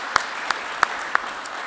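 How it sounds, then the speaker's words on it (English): Applause from a conference audience after a keynote at the NASSCOM Engineering Summit: a steady, soft wash of clapping with a few sharper individual claps standing out at irregular intervals. "a big round of applause"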